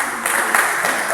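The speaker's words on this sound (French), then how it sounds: "Donc, on peut aussi l'applaudir" Brief burst of applause from participants at a Bible camp session, a dense patter of clapping hands at fairly loud level across the short stretch.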